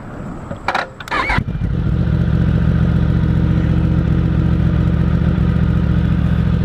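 A Yamaha R1M motorcycle engine cranks briefly with a clattering starter, catches and settles into a loud, steady, throbbing idle close by.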